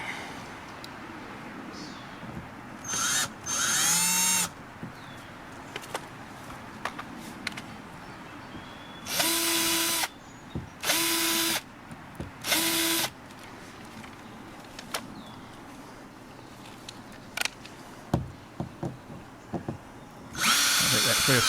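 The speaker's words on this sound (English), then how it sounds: "I'm going to drill one of them, screw it in just so I've locked in the position" Power drill driving screws and boring holes while mounting a fitting on a solar shed, several loud short whirring bursts separated by pauses and quiet handling sounds, with faint talk between.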